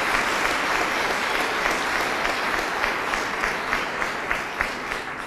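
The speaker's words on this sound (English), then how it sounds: "I ask that you give a round of applause for the commitment that our current and former board members make to this occasion." A large crowd at a 2016 high school graduation ceremony gives a sustained round of applause for board members, a dense even wash of clapping from start to end.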